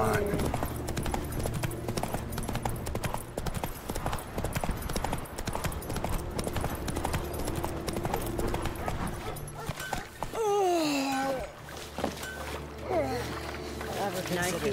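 Horse hooves clip-clopping at a steady rhythmic pace in The Witcher 3 video game, running continuously under music and ambient sound, with a voice speaking and a horse whinny near the end.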